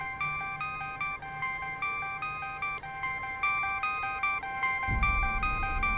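A phone rings with a repeating electronic ringtone during a tense standoff, steady chiming tones continuing over a low background rumble that swells near the end.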